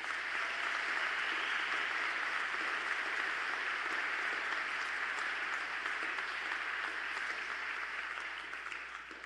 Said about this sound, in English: Let's give the teachers a round of applause.